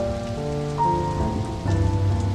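Heavy driving rain pours down in a steady, dense hiss, with a few louder splatters building toward the end, under a low held musical drone and with no talk.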